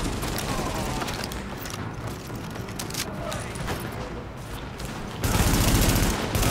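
Sustained gunfire in the video game Tom Clancy's The Division, a dense rapid fusillade of shots and bursts throughout, swelling louder near the end.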